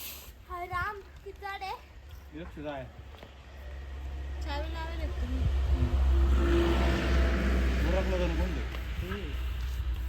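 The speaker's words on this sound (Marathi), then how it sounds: "काय हो गाडी तर आता इकडे चालू झाले" A car engine runs with a low, steady rumble that swells partway through and keeps going, while children and adults talk over it nearby.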